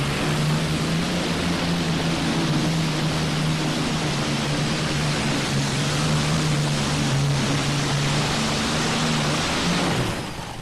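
A River Rat race boat powered by Allison aircraft engines roars in a sustained, heavy drone over rushing water, then cuts off abruptly near the end.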